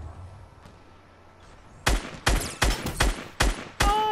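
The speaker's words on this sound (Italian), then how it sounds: "Io gli sparo però." Gunfire in the video game Fortnite comes as five loud, sharp shots spaced about half a second apart, following a quiet stretch with faint background sounds.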